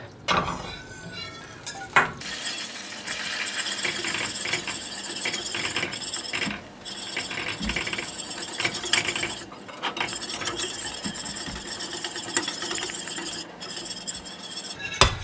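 A utensil stirs flour into melted butter in a soup pot, with continuous scraping and clinking against the metal, a light sizzle, and sharper knocks scattered throughout, close by.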